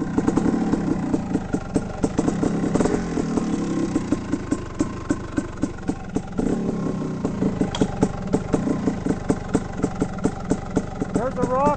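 A dirt bike engine, kick-started from the seat, idles with a steady, fast clattering putter close by while people talk over it.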